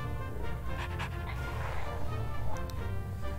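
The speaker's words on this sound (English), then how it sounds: "These dogs are in here." Dogs pant rhythmically at close range in the Wallace & Gromit's Grand Adventures video game, with a few faint whimpers over a low ambient hum and no talking.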